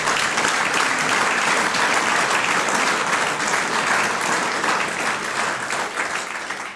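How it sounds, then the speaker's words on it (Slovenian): Dense, sustained applause from a school audience at a Slovenian award ceremony for top pupils, steady and loud throughout, tapering slightly at the end, with no voices over it. "boste še enkrat za celoten tim, bomo rekli, Osnovne šole Koroške Klari namenili en aplavz"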